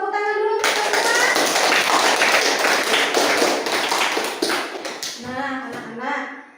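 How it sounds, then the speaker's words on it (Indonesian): Classroom students applauding their classmates, a loud, steady burst of many hands clapping for about five seconds, with a teacher's voice before and after it. "Tepuk tangan dulu untuk teman-teman."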